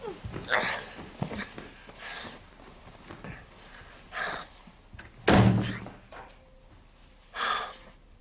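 A door slams shut with a heavy thud midway through, amid quiet room noise, faint rustling and a few soft breaths or snorts, fairly close.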